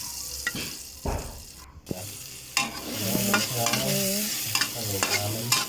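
Onions browning in margarine in a pan for a Spanish omelette, with a steady sizzle and repeated scraping stirs of a utensil against the pan.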